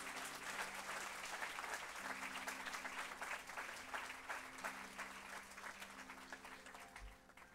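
A church congregation applauds to acclaim Jesus, sustained dense clapping from many hands that holds steady, then thins slightly near the end.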